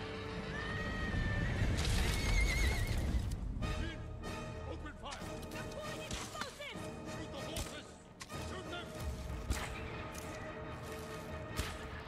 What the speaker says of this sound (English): they're lighting the horses on fire